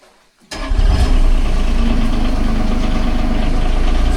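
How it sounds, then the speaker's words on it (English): Diesel Bobcat loader engine in a mine, silent for half a second before it catches and settles into a loud, steady, close idle with a low knocking rumble. "He's going to, sounds like, get this bobcat out of the way for us"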